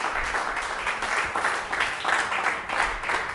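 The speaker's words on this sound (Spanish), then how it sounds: "Damos un aplauso al Señor." Church congregation applauding together during a worship service, a steady moderate clapping that carries on without a break for a few seconds, with faint voices mixed in.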